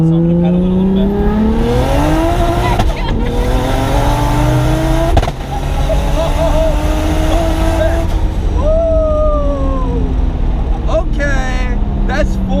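A Nissan Skyline launching hard at full boost, its engine note climbing steadily through several gears with brief dips at each shift; loud and continuous, with voices talking over it.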